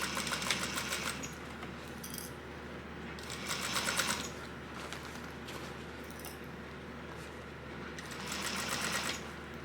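A domestic sewing machine runs in short bursts while back stitching a crossbody bag seam, three separate whirring runs with quiet pauses between them, close and clear.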